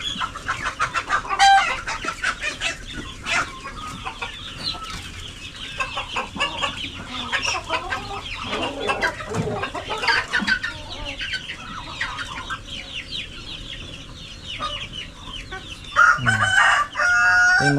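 Darag native chickens cluck busily and roosters crow repeatedly, close by and loud, with a lively farmyard chorus throughout.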